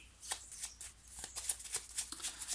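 Tarot cards being handled and shuffled, a quick series of soft papery riffles and flicks, close and quiet, with no talking.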